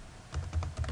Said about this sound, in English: Run your browser and type in the following URL